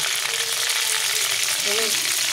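Dried red chillies and bay leaves sizzle in hot butter in a pan, a loud, steady, close hiss of frying that continues without a break.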